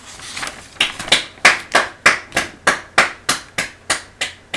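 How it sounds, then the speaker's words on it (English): Hands clap in a steady, evenly spaced rhythm, about a dozen sharp claps close by and fairly loud, with quiet gaps between them and no talking. "I hear clapping and commentary."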